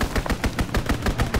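A fighter plane strafes with machine gun fire in the World War II shooter game Call of Duty: WWII, a rapid loud burst of about nine evenly spaced shots in under two seconds.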